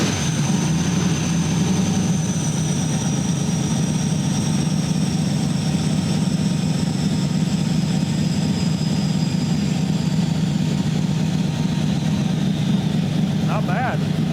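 A truck engine fitted with a swapped camshaft runs at a steady, loud, droning idle throughout, close up with a constant low rumble and a faint higher whine.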